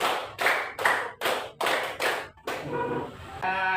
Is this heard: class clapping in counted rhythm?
yes